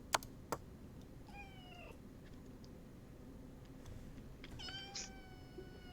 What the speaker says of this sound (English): My cat is just crying.